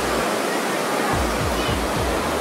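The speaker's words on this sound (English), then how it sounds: "here's some big old waves coming in now" Big storm swells during Tropical Storm Debby roll onto the shore as a steady, loud broadband roar, with low surges pulsing through the noise.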